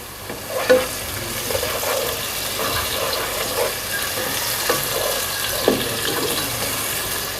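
Chopped green chillies, ginger and garlic frying with lightly fried onions in a pan for dhaba-style aloo gobhi, giving a steady, moderate sizzle with occasional stirring clatter and no talking.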